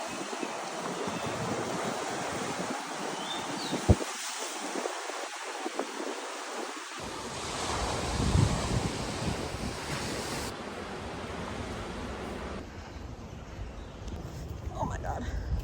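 Ocean surf rolls in at Hideaway's Beach on Kauai's north side, near the One Hotel: a steady, broad wash of breaking waves with wind buffeting the microphone throughout.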